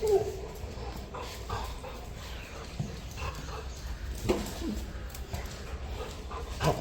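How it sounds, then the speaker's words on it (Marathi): A pet dog whimpers and lets out small yips in a steady run of soft whines and short high cries, close by, with some voices in the background. "तिथं बेला म्हणून एक आहे पेट आहे. डॉग आहे."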